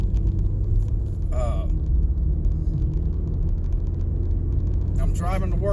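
A car rolls along the road with a steady low engine and tyre rumble beneath a person talking, and the hum continues under short bursts of speech.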